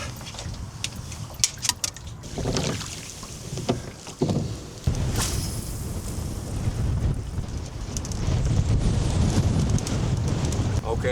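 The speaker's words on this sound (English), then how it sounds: "The wind is pulling me way too much sideways." Wind gusts across a small boat on open water, a loud buffeting rumble with water splashing and a voice talking intermittently.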